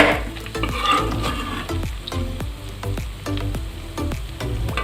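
Homemade ghee simmering in a pan while being stirred, with a soft continuous sizzle broken by regular scraping strokes of a spoon, close and fairly loud, with no talking.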